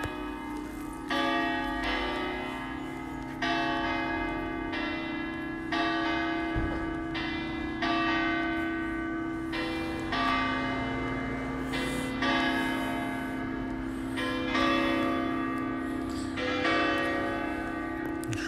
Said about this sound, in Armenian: զանգերը հնչեցին.